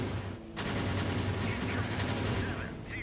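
Rapid 20mm cannon fire from an AC-130 gunship in the naval combat video game Sea Power: a steady, fast stream of shots, fairly quiet and distant-sounding, starting abruptly after a short lull and running continuously.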